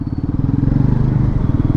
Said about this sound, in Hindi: देखिए 400cc का इंजन है